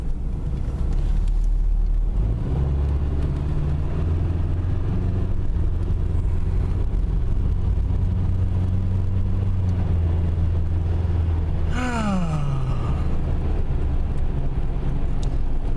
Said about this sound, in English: Got a car coming here.